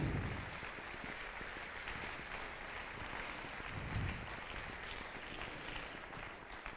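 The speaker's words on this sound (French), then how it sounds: "Je voudrais qu'on les applaudisse pour leur disponibilité." Faint, steady applause from an audience at an evening gathering on recovery from addiction, clapping for visiting priests, a soft, even patter of hands that continues without a break for several seconds.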